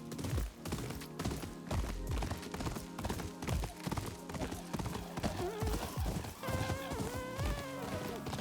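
Hooves of a video game horse named Mochi, a brisk rhythmic clip-clop running steadily and loudly, with tonal game music or whinny-like sounds rising near the end.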